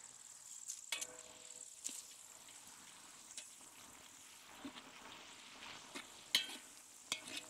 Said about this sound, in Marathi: कांदा असा लालसर परतून घ्यायचा.